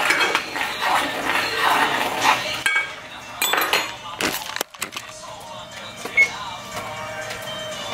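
A spoon stirs oats in a pot of boiling water on a stove set to medium-low, giving close scraping and clinking against the pot in irregular strokes, with a pause in the middle and quieter taps near the end.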